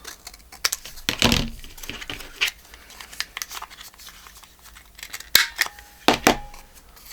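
Paper being cut with scissors at a desk while making journal ephemera: a few sharp snipping bursts, one near the start and a cluster near the end, with quieter rustling and handling of paper between them.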